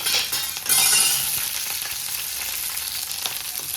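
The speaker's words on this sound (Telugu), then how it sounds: "ఇప్పుడు నూనె అయితే పెట్టేసిన, దూరం చదువున్నాను. పచ్చిమిర్చి ఫ్రై చేసుకుంటున్నా." Green chillies fry in hot oil for a bottle gourd chutney, giving a steady, close sizzle with a brief louder spitting burst near the start before settling into an even crackle.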